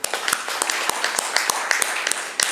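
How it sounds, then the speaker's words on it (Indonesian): Audience applause at a national seminar on narcotics law enforcement, a dense, steady wash of many hands with sharp individual claps standing out, fairly loud and continuous throughout. "Sekali lagi mohon tepuk tangan."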